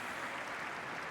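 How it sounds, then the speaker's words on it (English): Audience applause fills the arena at Crufts 2025 after a medical detection dog display, a dense, steady wash of clapping held at even loudness for a moment with no voices. "huge round of applause for that"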